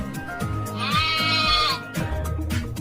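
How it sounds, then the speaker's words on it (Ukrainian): A sheep gives a long, quavering bleat in the middle, loud and close, with lower bleating and farmyard noise around it. "вівці"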